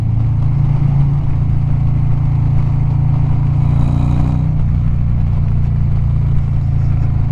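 Harley-Davidson 2022 Street Glide Special with a Screaming Eagle 131 Stage IV engine, a steady loud V-twin rumble that swells briefly as the throttle is blipped around 3,500 RPM, then settles back to a throbbing idle-like drone.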